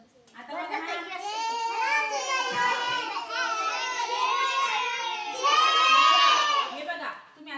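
A classroom of young children making noise, many small voices chattering and calling out together in a steady, lively babble that swells louder toward the end.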